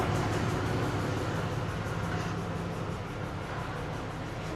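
An old-style passenger train bound for Colombo, on the seaside line from Hikkaduwa, fills the air with a steady, close rumble of wheels and carriage noise that holds even throughout, with no voices.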